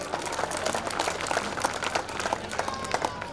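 An audience applauds a long jump winner at a Republic Day school prize distribution, a moderate, fairly distant crowd clapping with audible individual claps popping out of the steady wash.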